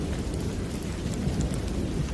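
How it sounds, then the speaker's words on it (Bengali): Steady rain pours with a low thunder rumble rolling beneath it, a dense, continuous stormy wash heard alone on a monsoon night, used as atmosphere in a Bengali ghost story. "বাইরে এখনো ঝিরঝিরে বৃষ্টি পড়ছে"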